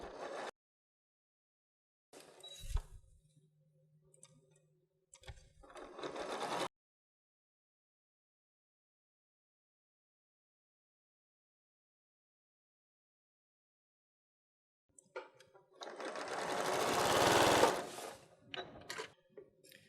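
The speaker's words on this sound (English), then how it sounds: "I'm just going to stitch all the way down the center." A sewing machine stitches quilting lines down a fabric heart-shaped pot holder, heard in two short bursts early on and a longer, louder run of stitching near the end, separated by a long stretch of silence.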